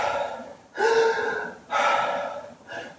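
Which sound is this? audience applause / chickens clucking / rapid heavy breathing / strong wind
rapid heavy breathing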